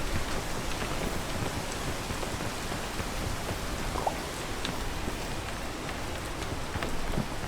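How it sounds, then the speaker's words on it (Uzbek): Heavy rain falls in the video game PEAK as a dense, steady hiss of downpour. It stays constant and enveloping throughout, with scattered crisp droplet ticks and no voices. "Yomg'ir yog'yapti, jala quyapti."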